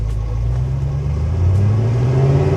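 A car engine idles steadily, a loud, close, low rumble with even harmonic tones and a slight rise in level toward the end, with no voices over it.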